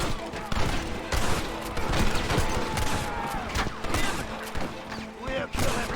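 Gunfire in Red Dead Redemption, a rapid fusillade of shots and impacts in a dense, continuous battle mix, with shouting voices mixed in among the bursts.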